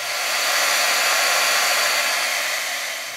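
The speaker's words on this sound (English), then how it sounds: "it activates and makes it like glue if you heat it from the back side" A heat tool blows hot air onto embossing adhesive from the back of a crafting tag: a loud, steady, close-up whoosh of fan noise lasting a few seconds with no talking.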